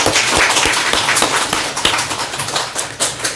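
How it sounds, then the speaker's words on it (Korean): Encouraging applause for a church choir in a Korean congregation, close and fairly loud with distinct individual claps popping out of a looser ragged clatter. "우리 성가대를 위해서 우리 격려의 박수 부탁드리겠습니다."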